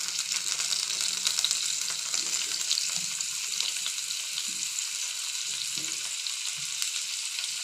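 Chopped tomato frying in a pan for a cauliflower curry, a steady broadband sizzle that holds continuously throughout with faint low clatters of stirring underneath, no voices.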